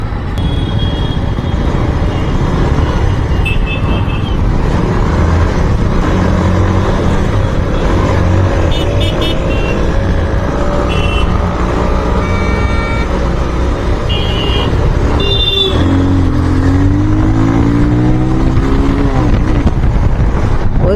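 A loud motorcycle engine drones steadily under heavy wind buffeting while riding, then revs up and climbs in pitch toward the end as it accelerates.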